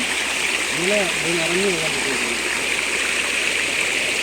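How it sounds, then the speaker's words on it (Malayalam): A waterfall roars in a steady, loud rush of falling water, with a voice speaking briefly over it early on. "കണ്ടോ ഞങ്ങളുടെ സ്വന്തം വെള്ളച്ചാട്ടം അല്ലേ"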